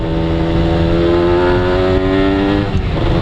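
A Kawasaki Ninja 150 RR motorcycle revs hard and close, its high-pitched two-stroke engine note climbing steadily. Near the end it wavers briefly, with no talking.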